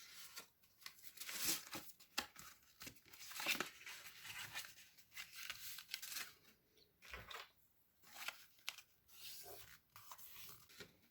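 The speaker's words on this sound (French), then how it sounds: "Ensuite, vous marquez les plis." Craft paper being creased along scored fold lines on an explosion box board, heard as soft rubbing and rasping strokes in irregular bursts, close and fairly quiet with no talk.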